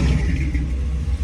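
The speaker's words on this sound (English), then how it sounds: "Listen to that truck. That truck sounds busky." Truck engine on a Philadelphia street in Port Richmond, a loud, close, heavy rumbling roar with throaty revving that stays strong through the whole moment, no voices over it.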